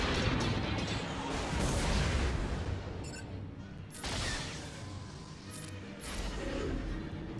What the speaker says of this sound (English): I can just immediately gun down Han Solo